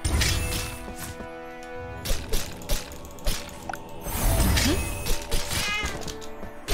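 A cat meows repeatedly over busy game music and effects in the action role-playing video game Cat Quest, the meows short and fairly prominent among clashing combat sounds.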